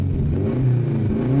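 A car engine revs up toward about 4000 rpm, a loud, close, steady mid-range drone held briefly without speech.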